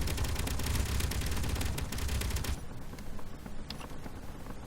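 Spaceship guns in Space Engineers hammer out a dense, continuous barrage from an attack frigate, loud and unbroken, then cut off sharply and leave a quieter rumble with sporadic clanks.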